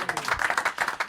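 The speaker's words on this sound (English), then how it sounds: "Give them a round of applause, everybody." Short burst of audience applause at a live pitch event, a quick patter of claps from a small crowd.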